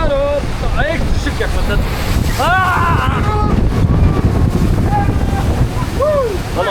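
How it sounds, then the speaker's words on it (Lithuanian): Wind gusts at the Energylandia amusement park, a steady rushing roar across the microphone throughout, with excited voices talking and calling over it. "Ir dar vėjas pučia."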